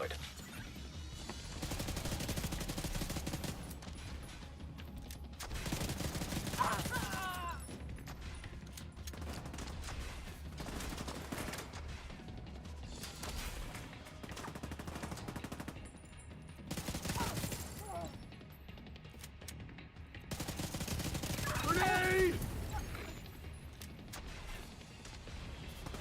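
Video game gunfire in a cooperative PvE shooter, sustained crackling bursts repeating across the whole stretch, louder surges at a few points, at moderate distance with background game noise.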